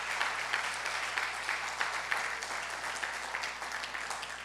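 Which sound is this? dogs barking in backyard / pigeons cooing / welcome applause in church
welcome applause in church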